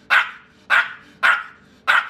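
Four sharp, evenly spaced dog barks, loud and close, each a short punchy bark about half a second apart with quiet gaps between.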